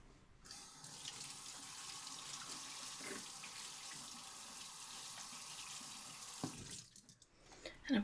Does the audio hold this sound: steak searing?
no